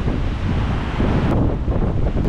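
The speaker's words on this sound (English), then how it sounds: "The wind is maxing. Maybe not maxing, but it's nuking." Strong hurricane wind from Hurricane Nicole buffets the microphone on Satellite Beach, Florida, just after high tide, a loud continuous roaring gust with surf and rain mixed underneath and no voices.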